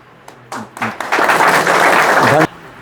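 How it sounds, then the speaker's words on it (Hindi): Audience at a branch-opening ceremony in Halai Bazar, Bihar, bursting into loud, dense applause for an honoured guest, sustained for about a second and a half after brief speech, then cutting off abruptly. "एक बार जोरदार ताली होनी चाहिए।"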